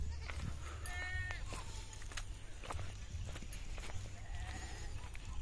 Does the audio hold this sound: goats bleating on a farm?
yes